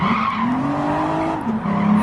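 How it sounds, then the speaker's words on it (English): An Audi race car in Gran Turismo 7 holds a loud, steady engine drone with a sustained tire skid, the pitch dipping briefly near the end. "the Audi sounds nice. Yeah, that sounds cool."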